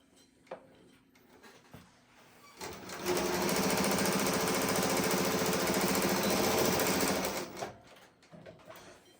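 A Global WF 1335 single-needle cylinder-arm walking foot sewing machine with a servo motor stitches in a steady, loud mechanical run of rapid needle thumps, preceded and followed by quiet handling clicks.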